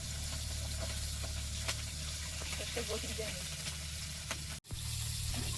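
Pabda fish frying in hot oil with mustard, green chilli and garlic paste, a steady sizzle and hiss with scattered small spluttering pops, close up in a home kitchen.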